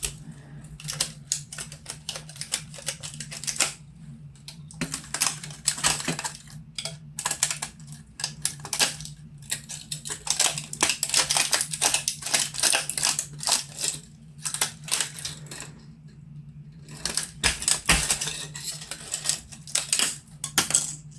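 Support material is cut and snapped off a Sculpto 3D-printed part, a close run of dense plastic clicks, cracks and scraping in irregular bursts with short pauses, no talk.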